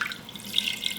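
Water splashes and pours steadily onto a sneaker treated with a water-repellent protector spray, with a close, brief, hissing trickle.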